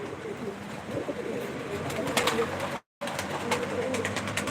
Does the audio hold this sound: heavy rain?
no